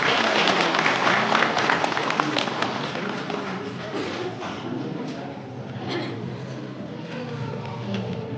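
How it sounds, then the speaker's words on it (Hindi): Wedding guests clap hard together at a ceremony, a dense sustained patter of many hands that stays fairly loud and steady throughout. "एक बार जोरदार ताली बजा देंगे।"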